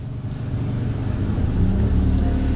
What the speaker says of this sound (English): let's throttle up.